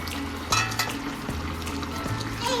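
Fish pieces go into a pot of boiled potatoes, setting off a steady close sizzle and bubbling with a few knocks and stirring sounds on top.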